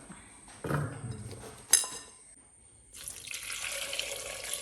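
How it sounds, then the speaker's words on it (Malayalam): Water runs and splashes into a cooking pot for boiling cassava, for a few seconds, with a short clank before a steadier pouring stream. "ആവശ്യത്തിന് വെള്ളം ഒഴിച്ചെടുക്കാം"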